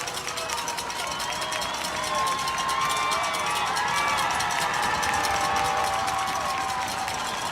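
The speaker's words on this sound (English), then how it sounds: "The Ramblers away crowd growing loud." The Ramblers' away crowd at a high school football game between Gordon Lee and LaFayette grows loud, a sustained roar of cheering and shouting that fills the whole stretch, with an announcer's voice over it.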